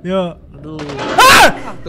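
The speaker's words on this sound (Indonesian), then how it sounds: "Kayaknya itu suara tembakan deh." A single loud gunshot in the video game Man of Medan bursts out in a sharp blast between people's startled exclamations.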